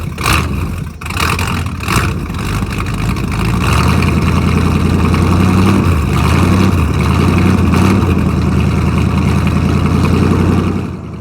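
An old Ford engine running rough at low RPM, a loud, steady, close rumbling drone with a lumpy, uneven beat that swells slightly in the middle, with no voices.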